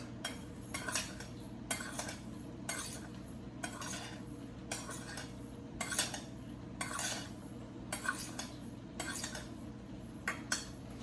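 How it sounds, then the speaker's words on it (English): A spoon scrapes and clinks around a bowl, stirring a panko breadcrumb mixture in a regular rhythm of about one stroke per second, each pass a bright gritty scrape over low background hum. "So I'm going to give this a little bit of a stir"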